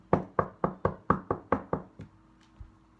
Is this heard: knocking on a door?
yes